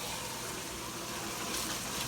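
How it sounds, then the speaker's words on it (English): Water rushes steadily as it is poured into a pot of caramelized vegetables for old-school chicken noodle soup, a continuous, close gushing sound with no pause. "let me get my water here ready to pour in here"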